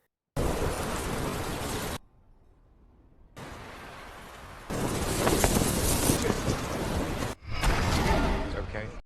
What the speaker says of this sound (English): Strong winds started blowing, followed by repeated lightning strikes hitting the same spot.